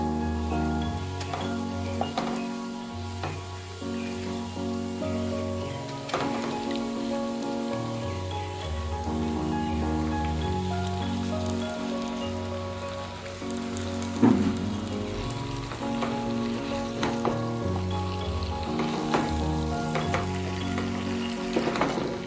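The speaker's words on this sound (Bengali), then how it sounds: "এরপর আমি যে ম্যারিনেট করে রাখা চিকেনটা এটা দিয়ে দেবো।" Marinated chicken sizzling in fried masala for palak chicken, a steady close frying hiss with scattered crackles and pops, over a low tonal hum that runs throughout.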